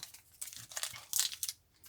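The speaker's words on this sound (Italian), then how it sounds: "Apertura facile, dito pollice e indice, sfregate il sacchetto, ricordate?" Fingers rub open a small plastic bag of screws while assembling an Iron Man model kit, giving soft, close crinkling and rustling in several short bursts.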